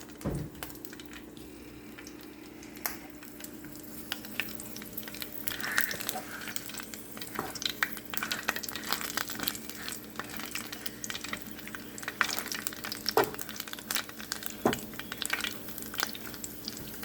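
Ingredients for Mexican mole fry in a pan with a soft, continuous sizzle and crackle, quiet and close, broken by occasional stirring clinks and scrapes.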